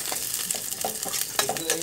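Garlic and ginger sizzle and crackle as they are sautéed in a pan for chicken tinola, a steady close frying hiss with a few small stirring clicks.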